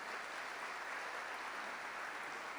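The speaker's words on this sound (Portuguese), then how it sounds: "Dê uma salva de palmas para esse testemunho." Church congregation applauding a testimony, a steady dense wash of clapping that holds evenly throughout at moderate distance, no voices over it.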